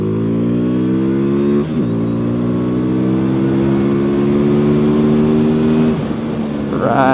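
A QJMOTOR SRV300S motorcycle accelerates hard and close, its engine note climbing steadily through the gears with two brief dips at the shifts, loud and continuous without talk.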